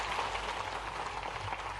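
Applause from an audience at a youth cooperative dialogue event in Bhopal, a steady dense wash of clapping that carries at even volume for about two seconds.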